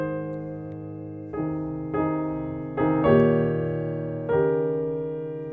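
Piano plays a slow passage of sustained chords struck one after another, voiced so the top melody sings loudest over a softer bass line and quieter inner voices, each chord ringing and fading before the next.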